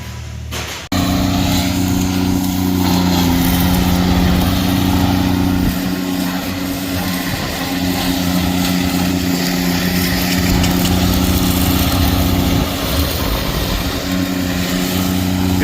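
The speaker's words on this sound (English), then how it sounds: "You can make the old McCormick bark on there now." An old McCormick tractor engine starts up abruptly and runs at a loud, steady idle close by, with a deep rumbling throb continuing alone throughout.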